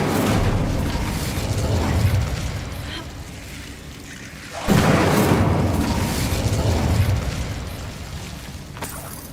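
Booming blasts of the Bombarda explosion spell in Hogwarts Legacy, two loud bursts with rumbling tails, the second starting abruptly midway and decaying slowly.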